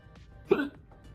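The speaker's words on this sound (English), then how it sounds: "I'm actually not surprised that I'm hiccuping." A single sharp hiccup bursts out of a person who has just chugged a super hot pepper drink, heard close up and alone, with a brief vocal catch after it.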